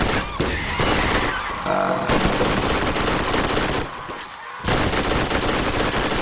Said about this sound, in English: Somebody is shooting with shotgun